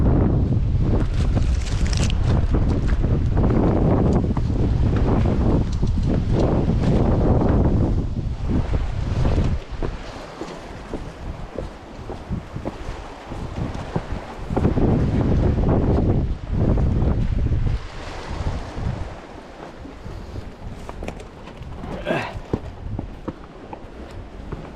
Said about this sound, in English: It's quite windy here as well